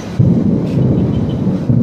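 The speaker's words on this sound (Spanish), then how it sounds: "muchos truenos y relámpagos que están sonando" Heavy thunder rumbles through a city storm in Siloé, Cali, while lightning strikes and an aerial cable car sits halted, a loud deep roll that swells and stays steady throughout with no voices.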